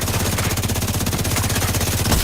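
Automated turret gunfire in The Division 2, a loud, continuous stream of rapid rounds with an even mechanical rhythm throughout.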